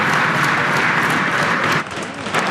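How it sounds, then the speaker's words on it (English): NDP members clap in the House of Commons chamber, a loud, dense burst of many hands that holds steady, then briefly thins before swelling again. "They're clapping."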